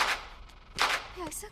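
Gunfire from a handgun in a scene from the Tamil film Oru Kanniyum Moonu Kalavanigalum, two loud sharp bursts a moment apart, close up, followed by a brief vocal sound.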